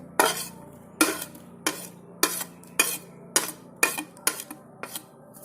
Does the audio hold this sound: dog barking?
no